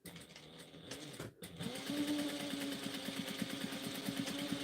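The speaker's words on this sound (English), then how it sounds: "I'm going to back stitch." A domestic sewing machine back stitching through flannel fabric: a short start, a brief pause, then a steady, close, fast mechanical whir and needle rhythm that runs alone.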